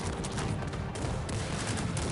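Rapid bursts of gunfire in the video game Cossacks 3 crackle continuously, a dense fusillade of shots with no pauses, loud and close.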